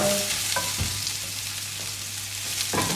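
Garlic sizzles in hot oil in a pan for liver adobo, a steady frying hiss with a few scraping stirs of a utensil against the pan, close and moderately loud with no talking.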